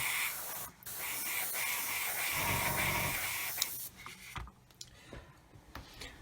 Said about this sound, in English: Just blow it with the airbrush.